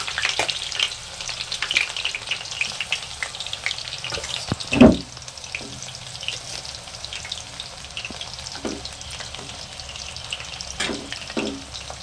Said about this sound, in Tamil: வாங்க பொரிக்கலாம்.